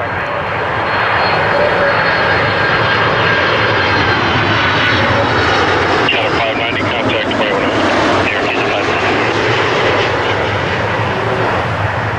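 A large airliner takes off from Toronto Pearson airport, its engines roaring loud and steady for the whole stretch, broadband and sustained, heard outdoors.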